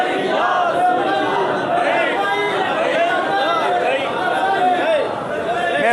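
Crowd at a religious gathering commemorating Imam Husayn, with many voices chattering and calling out together in a steady, loud, continuous wash of sound with no single clear speaker.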